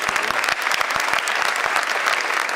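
Audience applause at a university congress hall, a dense steady wash of many hands clapping close and loud throughout, with no voices over it.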